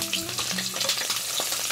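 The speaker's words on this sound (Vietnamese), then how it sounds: "Dầu nóng thì mình cho vào khoai tây trước nè." Potatoes hit a pan of hot oil for a beef stew, giving a loud, dense, continuous sizzle and crackle with a few faint clinks and no talking.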